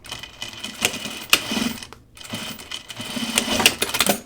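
A sewing machine stitches through thick jacket fabric in short, rapid bursts of mechanical chatter, pausing briefly midway before starting again, loud and close with no voices.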